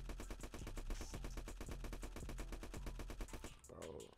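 Rapid automatic gunfire rattles in a Roblox hood shooting game, a long even burst of dense shots lasting several seconds before stopping abruptly, followed by a short different sound.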